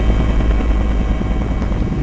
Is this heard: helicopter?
yes